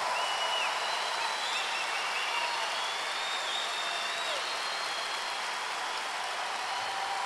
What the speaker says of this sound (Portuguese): Gostaria mais uma vez que vocês aplaudissem Jesus